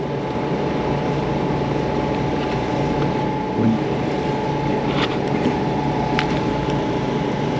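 Steady exhaust drone and wind rush from an Indian Springfield Classic motorcycle riding on a warm Texas day, continuous and loud with no break.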